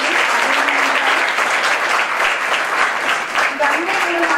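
Schoolchildren clap for a visiting MLA at an RO water plant inauguration in Adilabad, sustained loud applause from a large group with faint voices mixed in.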